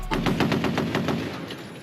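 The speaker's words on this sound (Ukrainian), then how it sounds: "Прицільний вогонь із кулемета, але стріляє не людина, а робот" A robot-operated machine gun fires a rapid, evenly spaced string of about ten loud shots that carry on steadily without a break.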